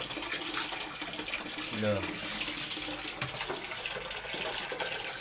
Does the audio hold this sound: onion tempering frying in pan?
no